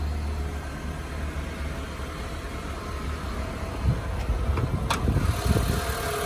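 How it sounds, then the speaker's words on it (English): A Mitsubishi Lancer engine idles with the bonnet open, a faint steady low hum with a few light clicks and knocks toward the end. "Running smoothly as well, Theo."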